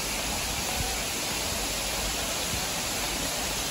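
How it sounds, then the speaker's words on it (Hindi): Waterfall at Pandav caves in Pachmarhi, a steady broadband roar of falling water, loud and unbroken throughout with no voices. "ये जो वाटरफॉल है ना नेक्स्ट लेवल है यार"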